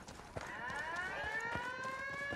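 A wailing alarm siren in Ghost Recon Wildlands, rising and falling steadily over game background noise, loud and continuous throughout.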